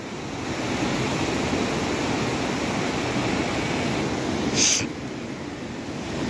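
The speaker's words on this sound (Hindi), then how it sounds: "ये देखिए यहाँ से कहीं से ऊपर से आ रहा है वो झरना।" Waterfall rushing down from above near a mountain suspension bridge on the trek to Kalpeshwar Mahadev Temple: a broad, constant roar of falling water, loud and unbroken, with a brief bright clink near the end and no talking.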